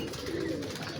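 Pigeons at a breeding loft coo in a low, steady murmur, a soft continuous drone of several birds close by with no talking.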